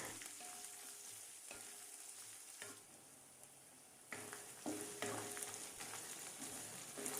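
Chopped onions sizzling and frying in oil in a pan for red chutney, a soft steady crackle with occasional stirring scrapes and small bursts, close and quiet with no talking.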